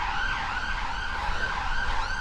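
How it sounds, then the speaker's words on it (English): Emergency vehicle siren, fire engine, police car or ambulance, passing near the Physic Garden off the Royal Mile in Edinburgh, wails steadily and fairly loud throughout, with rising and falling tones over low traffic rumble. "there's a fire engine, police car,"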